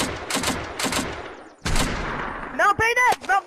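Rifle gunfire from soldiers in the video game Unturned: a rapid burst of loud overlapping shots, then a sustained volley, ending in several sharp close bangs with ringing metallic echoes, with voices shouting underneath.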